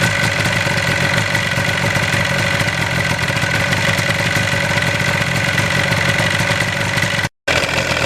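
A 1977 Yamaha RD400 motorcycle engine idles steadily at close range, a loud, even two-stroke burble that holds unchanged throughout, with one brief dropout near the end.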